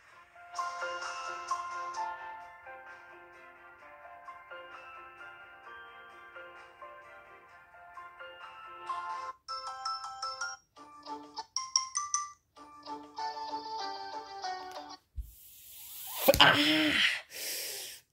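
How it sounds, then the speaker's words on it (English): A Samsung J5 smartphone plays a melodic ringtone of bright tonal notes, a sustained phrase followed by choppier chimes, loud and close, ending in a burst of handling noise. "I hate that ringtone."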